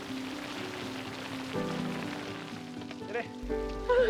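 Steady rain falls as a soft continuous hiss throughout, with faint tonal music underneath and a brief spoken word near the end.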